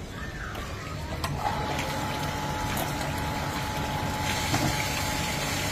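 An iron-removal water filter at a home runs its backwash, giving a steady pump-like hum with rushing water beneath, close and unbroken for several seconds.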